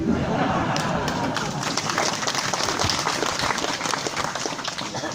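Sustained applause from a crowd, dense and even clapping that carries on without a break at moderate volume.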